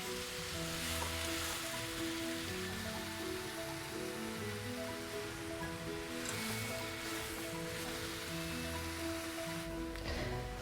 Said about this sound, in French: Il faut juste que ça mijote